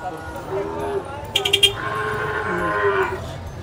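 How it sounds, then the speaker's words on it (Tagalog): Water buffalo low in long, drawn-out calls at a busy livestock market, moderately close, with people talking over and around the animals. "Kalabaw kasi section dito eh. Maraming kalabaw."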